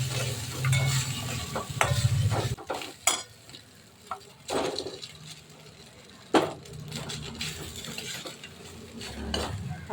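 Cooked, cooled rice tipped into a pan of mango rice and stirred, giving a steady scraping, stirring rustle with a light sizzle and a few sharper spoon-against-pan knocks.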